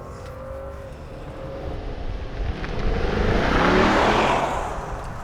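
A 2022 Mercedes-Maybach S580's engine revs and builds in a rising surge during a brake-boosted launch, growing louder toward the middle before easing off slightly, heard from inside.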